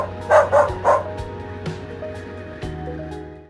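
A dog named Gabra barks toward the forest through a snowy village night: three quick, fairly close barks early on, then quieter scattered yips over a steady low background hum.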